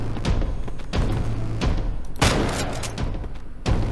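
Heavy gunfire in The Whitetail Incident, an indie horror shooter game: several loud, close booming shotgun-like blasts at irregular intervals, each with a thudding low-end tail, with no talk over them.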